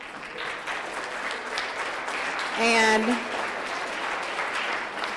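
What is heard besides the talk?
audience applause welcoming guest speakers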